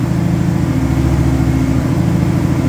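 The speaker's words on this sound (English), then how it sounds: "you can hear in the exhaust the up and down roller coaster of the engine speed" Idling exhaust of the 1981 Daytona 500 pace car, held near 1,500 to 2,000 rpm under GM computer control, a close, steady low rumble with a subtle surging rise and fall in engine speed.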